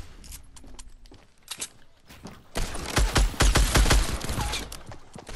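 Rapid in-game Desert Eagle pistol shots from a Fortnite firefight come as a dense, loud cluster of sharp cracks in the second half. Quieter clatter and movement noise come before them.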